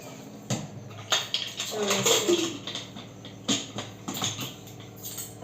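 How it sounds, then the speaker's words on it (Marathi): A pressure cooker holding salted vegetables for pav bhaji is set on a kitchen stove, with close metallic clanks, knocks and rattles arriving in short irregular bursts. "कुकर लावून घेऊया आपण"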